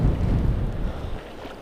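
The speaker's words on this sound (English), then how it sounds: "Let's brave the wind." Wind buffets a microphone on a beach beside a pier, a loud, low, rumbling gust that fades a little toward the end, with no other clear sounds or talk.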